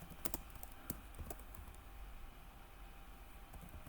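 Computer keyboard typing during website editing work, a run of quiet clicking keystrokes with a few sharper taps early on, fairly faint against a low steady room hum, with no voices.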